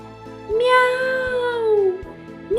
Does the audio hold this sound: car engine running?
no